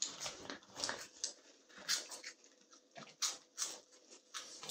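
Dogs close by making short yelps, snuffles and scrabbling noises in uneven bursts during a family food challenge at home, with a soft patter of paws and movement between the bursts.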